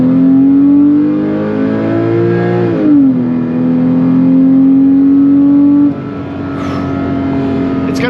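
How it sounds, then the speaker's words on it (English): A Porsche 997.1 Carrera S with Tiptronic transmission pulls hard through turns. Its engine drone climbs steadily, dips once with a shift, then holds a strong, even pitch up close with no pause. "we'll go ahead and give it some gas around these turns, and you can just see how the thing drives"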